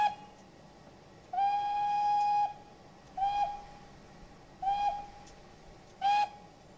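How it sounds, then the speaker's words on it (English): Steam locomotive whistle samples from a J21 train simulator add-on: a long, steady whistle blast followed by three shorter toots, each clear and close against a faint background hiss, with no talking. "So there are some different whistle samples."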